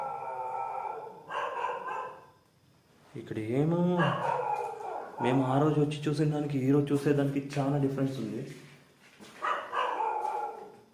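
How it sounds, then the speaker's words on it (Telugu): Dogs bark and howl at a house at night in a series of loud, drawn-out bursts, with someone talking quietly between them. "మీకు కుక్కల సౌండ్ వినిపిస్తుంది అనుకుంటాను"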